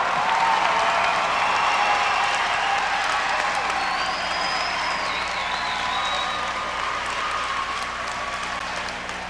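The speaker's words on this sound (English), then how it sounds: "I'm not going to try and talk over this crowd." A volleyball crowd at a men's MIVA championship match against Ball State roars and applauds through a timeout, dense sustained cheering and clapping from a packed gym that slowly eases, with a whistle-like tone briefly rising above it.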